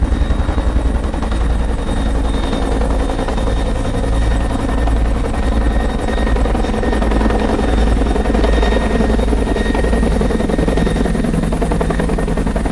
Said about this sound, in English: The helicopters were over there.